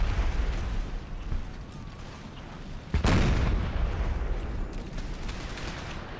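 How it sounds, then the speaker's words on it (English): Cannon fire during an Empire Total War battle with the Empire 2 mod, a continuous rumbling barrage with one sharp, heavy boom near the midpoint followed by sustained dense battle noise, no talk. "Cannon are holding their own."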